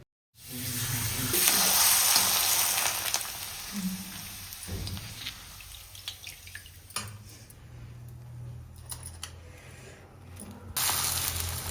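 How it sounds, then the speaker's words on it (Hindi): Rice flour papad deep frying in hot oil, a loud crackling sizzle that swells early and then thins into scattered pops and crackles, close by with no voices. "तो यहाँ पर हम पापड़ भून रहे हैं, मतलब तल रहे हैं"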